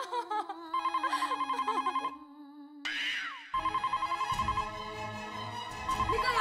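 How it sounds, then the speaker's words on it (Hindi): A telephone bell rings in repeated bursts, with a brief whooshing sweep in the middle and a low hum underneath. "दया फोन की घंटी बज रही है कब से?"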